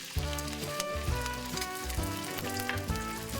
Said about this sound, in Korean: 비빔밥을 하려고 지금 후라이를 하고 있습니다.